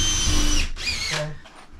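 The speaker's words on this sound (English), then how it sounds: "I just need a drill." A power drill whirs loudly for a moment during a closet shelf installation, stops briefly, then spins up again in a second shorter burst, close by.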